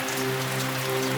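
Rain pouring on a mountain hiking trail, a dense steady hiss of drops hitting surfaces, loud and continuous with a low hum beneath, no talk.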